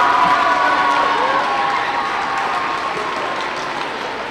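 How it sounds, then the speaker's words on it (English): A school gym crowd gives DARE graduates at an elementary school graduation a loud round of applause, with dense clapping and some cheering that fades gradually, plus a faint whistle-like tone. "all the graduates, one more big round of applause."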